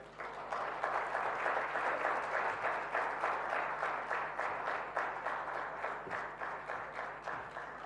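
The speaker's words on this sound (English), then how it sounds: "Another round of applause, ladies and gentlemen" Sustained audience applause at an awards event after a speech, many hands clapping in a dense, steady wash that holds for several seconds, loud and close with a faint hum beneath.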